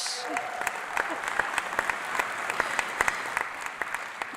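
Congregation at Cape Cod Church clapping, a steady, fairly rhythmic patter of many hands with individual sharp claps standing out, continuous across the moment.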